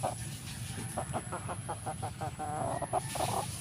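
A chicken clucks in a quick string of short, fairly close calls over a steady background hum, with brief pauses between bursts.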